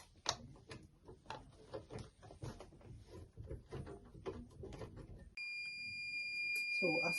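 A sublimation heat press timer beeps in a steady high-pitched tone near the end, after a stretch of talk with handling noises as a stainless tumbler is pressed.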